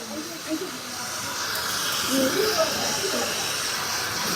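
Tamil fish curry simmers in a pan with a steady, close hiss and soft bubbling, while a voice speaks faintly underneath.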